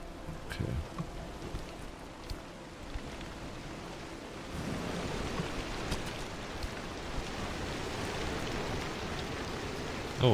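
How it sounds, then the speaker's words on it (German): Steady rain in the video game Pacific Drive patters and hisses, growing heavier and denser about halfway through, with a few faint clicks over it. "Oh, es regnet ein wenig."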